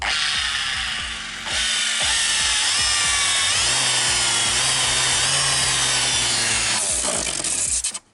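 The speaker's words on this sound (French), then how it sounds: "ça c'est plutôt une ponceuse pour faire du gros œuvre" A heavy-duty power sander grinding loudly against wood, a harsh continuous whirring scrape that shifts pitch as it works, then cuts off abruptly at the end.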